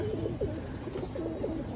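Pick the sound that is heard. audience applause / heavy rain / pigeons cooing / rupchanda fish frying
pigeons cooing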